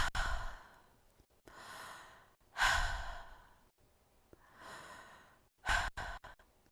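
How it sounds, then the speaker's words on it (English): Slow deep breaths taken one after another, each long hushed inhale and exhale close and quiet, with silence between them. "Now take a few deep breaths"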